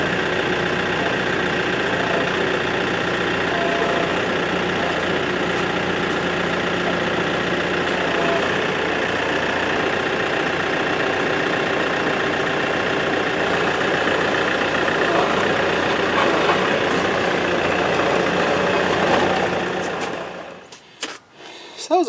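A John Deere-style RX7320 tractor engine runs steadily at a constant idle-like drone, loud and close, for about twenty seconds before cutting off abruptly near the end.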